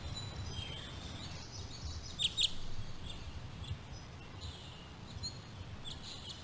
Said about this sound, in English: These birds really do seem to like Watson